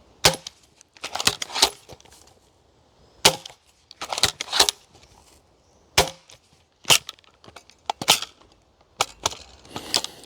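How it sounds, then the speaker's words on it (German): Steambow M10 crossbow with a modified magazine and dry fire protection, a series of sharp clacks and snaps in irregular clusters, close and loud against near silence. "hier greift die Leerspannsicherung und auch beim zweiten Magazin werdet ihr sehen, es funktioniert absolut super"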